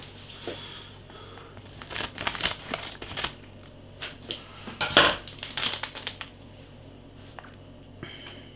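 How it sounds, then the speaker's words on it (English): Scissors cutting open a plastic package of Carolina Reaper biltong: a series of close crinkling snips and rustles, irregular and sharp, with one louder crunch midway and quiet gaps between. "we're back to the scissors"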